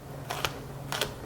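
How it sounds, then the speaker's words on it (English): A knife slices a pepper very thin, two short crisp cuts against a board about half a second apart, close and fairly quiet with no talking. "So I'm just gonna cut that pepper even thinner."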